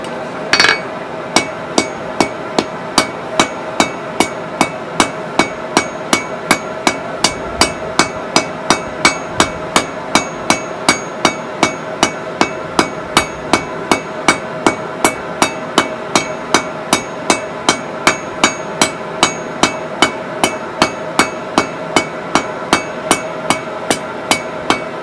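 Steady, evenly spaced hammer blows ring out on rebar as it is forged into an arrowhead drift, sharp metallic strikes repeating at roughly one per half second, close and loud with no talk.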